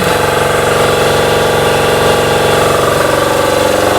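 An air compressor runs continuously beside a truck with dual rear wheels during tire work. It gives a steady, loud, close mechanical drone with a rhythmic pulsing and no pauses, and no one talks over it.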